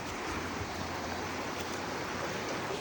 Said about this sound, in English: we're at this cool waterfall